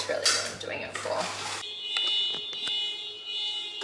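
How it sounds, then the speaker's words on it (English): A car alarm sounds outside, cutting in after a short stretch of talk as a steady high electronic tone with repeated sharp pulses, heard at moderate level from some distance. "just as I press record, someone's car alarm starts going off"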